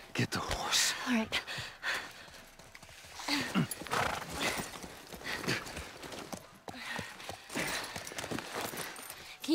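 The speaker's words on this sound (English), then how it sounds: "Just get the horse." Horse in the video game The Last of Us Part 1, clip-clopping hooves and a whinny heard close by amid whispered voices and gasps, with bursts of movement through the scene.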